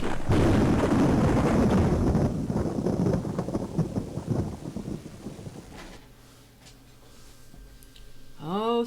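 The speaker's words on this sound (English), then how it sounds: "Oh, thunderstorms." A thunderstorm in the Vampire Diaries video game opens with heavy, loud rumbling thunder that fades over several seconds. A quieter stretch follows, then a rising whoosh at the end.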